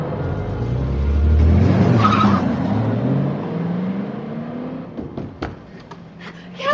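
A car accelerating away with its tires skidding and squealing, rising to a loud roar early on and then fading as it pulls off, with a few sharp clicks near the end.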